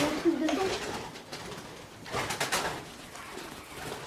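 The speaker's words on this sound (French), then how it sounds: "Le petit pigeon qui fait peur à chaque fois" A pigeon coos softly in an abandoned part of a château, its low murmuring calls mixed with nearby talking voices and shuffling in a quiet, echoing space.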